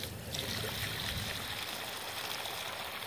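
Water from a hose drains through a French drain lined with geo fabric, a steady close trickling and bubbling rush that runs continuously without any talk.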